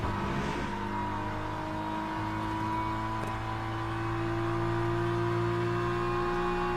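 An LMP2 race car in a racing video game holds a steady, high engine whine with layered harmonic tones, continuous and even at a moderate level, with no talking.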